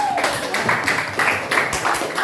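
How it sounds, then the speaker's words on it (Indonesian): Junior high students in a classroom guidance lesson clap together in a short, uneven burst of hand claps, fairly close, with faint voices underneath. "oke, tepuk tangan"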